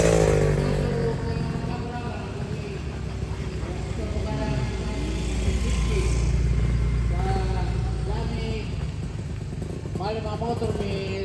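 A motorcycle being ridden, a steady engine drone and road rumble heard close by throughout, with people talking over it.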